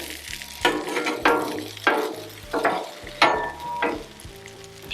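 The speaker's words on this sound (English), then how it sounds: "All right, well those hash browns cook up." Hash browns fry on a Blackstone griddle for a breakfast hash brown omelet, giving a steady sizzle cut by about six sharp scraping or pressing bursts from a spatula, close and fairly loud, with no talking.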